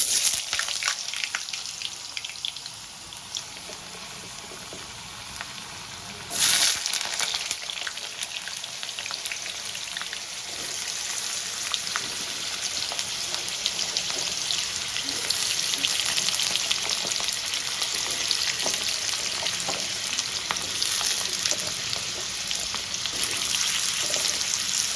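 Cut potatoes fry in hot oil, a dense continuous crackling sizzle that swells sharply partway through as more pieces hit the pan, holding loud and steady to the end with no voices.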